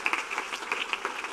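Many worshippers keep clapping in rhythm during an evangelical church service, a busy, fairly even patter of hands with light regular pulses, close and steady.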